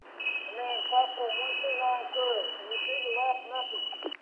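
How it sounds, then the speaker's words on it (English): A firefighter's PASS device alarm shrills steadily through an analog fire radio, a sustained high electronic tone running the whole time over band-limited, muffled speech. "your speech is overpowered by the sound of the alarm"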